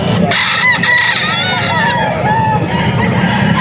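A white streamer hennie rooster crows with a drawn-out call, loud and close, over background chatter and bird clucks.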